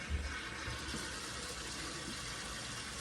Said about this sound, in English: Then I'm going to go and turn on the warm water again